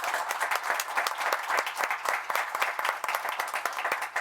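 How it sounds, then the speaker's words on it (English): People at a town board meeting applaud Nathan Stone as he is called up, a brisk, fairly close round of many hands clapping that carries on evenly for several seconds. "Please give Nate a round of applause."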